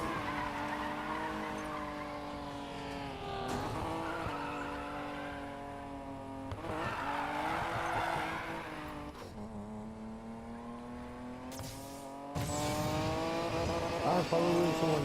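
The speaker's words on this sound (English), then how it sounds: "But I'm drifting around this huge roundabout." Car drifting around a huge roundabout in Need For Speed Payback, with a continuous engine drone and sustained tire squeal running throughout, swelling and easing in a few surges, loud and close, with no talk.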